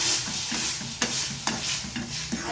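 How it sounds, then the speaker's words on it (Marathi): A spatula stirs and sautés food in a hot pan while it sizzles steadily, with several sharp scrapes against the pan standing out along the way. "हां तर हे बघा चांगलं परतू द्यायचं ह्याला"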